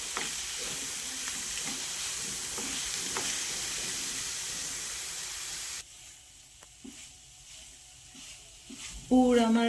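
Coconut filling is stirred in a pan until sticky, giving a steady close sizzle with soft scraping strokes for about six seconds, then a quieter, sparser stretch of faint stirring.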